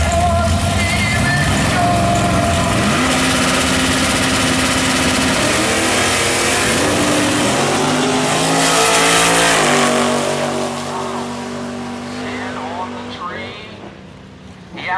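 Drag racing pair, a 1970 Chevy Nova against a 1979 Ford Mustang, with loud engines revving and accelerating hard down the strip, while an announcer talks over the roar.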